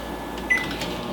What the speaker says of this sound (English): I'm going to put this in the microwave for about another 15 seconds